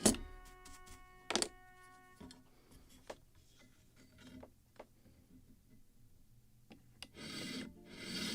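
Hand sanding of wood on a model of the 1776 gunboat Philadelphia gives faint, close rasping strokes in intermittent bursts, broken by a few light knocks.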